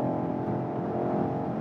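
A BMW X5 M or X6 M Competition SUV engine accelerating, a steady loud, dense roar with a continuous rumble across the whole short stretch and no talk over it.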